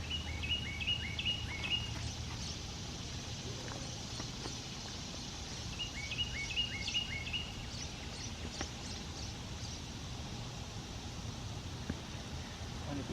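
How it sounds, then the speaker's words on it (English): Small birds chirp and sing outdoors in the morning garden at pumpkin planting time, repeated bursts of high twittering at moderate distance over a steady outdoor background with faint footsteps. "Lots of little birds out this morning."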